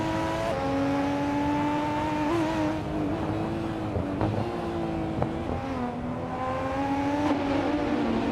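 Kuruma Cup race cars lapping Brands Hatch GP in a racing video game, with several engines droning and whining together in a continuous close pack, pitch rising and falling through gear changes.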